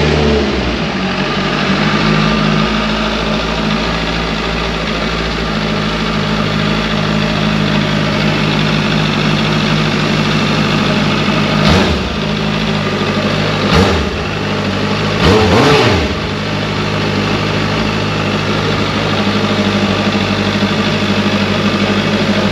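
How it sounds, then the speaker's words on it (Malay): Benda LFC 700 motorcycle with an inline-four engine runs steadily at a smooth, fairly quiet idle, with a few brief rev blips near the end and no talk. "Jom kita on motor ni dan kita sama-sama dengar."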